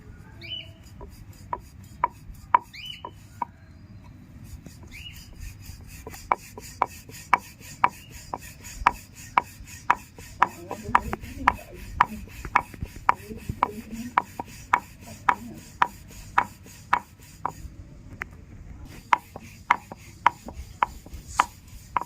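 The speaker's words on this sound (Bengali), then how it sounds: "ময়দার গুঁড়ি নিয়ে নিচ্ছি এবার আমি বেলে নেবো" Flour dough for egg rolls is rolled out in a village-style kitchen. A regular series of sharp knocks and taps from the rolling pin against the board comes in a steady rhythm with brief pauses, close up and without talk.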